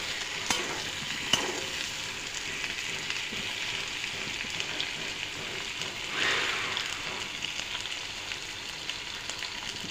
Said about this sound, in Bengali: এখন দিয়ে এলে শসা আর আলুটা একদম একটু ভেজে নেব নুন হলুদ দিয়ে